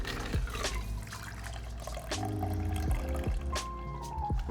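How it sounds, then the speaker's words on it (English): Carbonated cold brew pomegranate and rosehip tea is poured over ice into a cocktail, a steady close liquid stream with clicks of ice shifting and knocking against the glass throughout. "We're gonna top this off with some cold brew pomegranate and rosehip tea"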